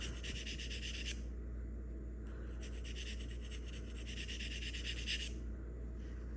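A dental curette is drawn heel to toe across a sharpening stone, making a faint, high scraping rasp in two long strokes over a steady background hum.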